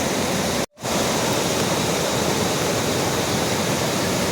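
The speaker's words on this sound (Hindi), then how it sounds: "खेतों में भी चश्मे इतने निकले हैं ना कि पानी पानी" Floodwater rushing through farm fields in Sirmour, Himachal, after record heavy rain: a loud, constant broadband roar of flowing water, broken by a brief dropout near the start.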